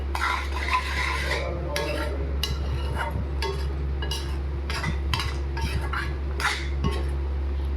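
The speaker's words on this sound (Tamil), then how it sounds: "நல்லா மிக்ஸ் பண்ணிக்கலாம்." A spoon scrapes and clinks against a pan while stirring palak paneer gravy, in a string of quick, close strokes over a steady low stove hum, with no talking.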